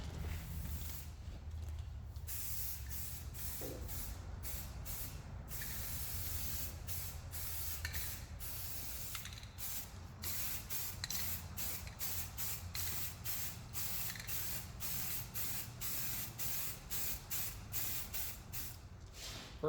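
An aerosol can of primer sprayed onto a trailer in repeated hissing bursts with brief pauses between passes, close and steady across the coat.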